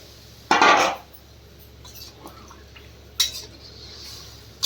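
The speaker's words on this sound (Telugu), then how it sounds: "చింతపండు చారు పోస్తున్నా." Tamarind juice poured into a pan of frying fish curry, heard as a loud splashing sizzle burst followed by quieter clinks and a second short hiss, no talking.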